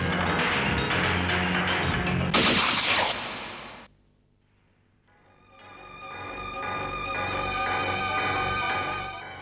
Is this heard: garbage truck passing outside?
no